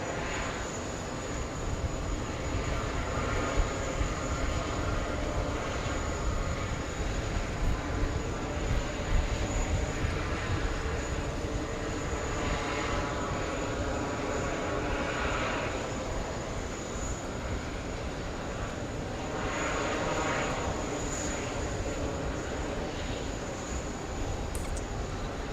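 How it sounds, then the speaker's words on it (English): A Qatar Airways Boeing 777 arriving at JFK, its jet engine roar a steady, broad rumble that holds fairly constant throughout with no talking. "Qatar coming in. We got the Qatari 777."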